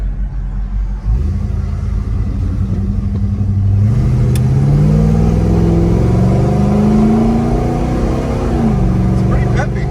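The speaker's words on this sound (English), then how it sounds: "the exhaust is my favorite part of this car. The X-Pipe, it's got a clean sound to it." A 1973 Chevrolet Chevelle SS with a 350 engine and X-pipe exhaust drives along, its steady low exhaust rumble rising into a climbing drone as it pulls, then easing off, with a voice talking over it.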